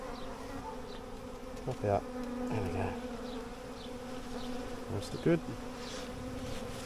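A honey bee swarm hums in a continuous close buzz while a person speaks briefly over it, with a few soft knocks and rustles mixed in.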